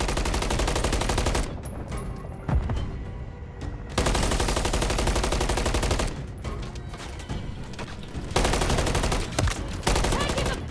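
Dense bursts of automatic gunfire from a firefight in MW3 Zombies, loud and near, rattling almost continuously across the clip with brief lulls between volleys.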